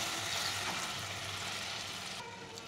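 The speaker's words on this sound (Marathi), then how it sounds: "हे बघा छान दुधाला अशी बॉईल आलेली आहे" Milk and ghee boiling together in a pan, a steady hissing, bubbling wash that eases slightly toward the end, with no one speaking.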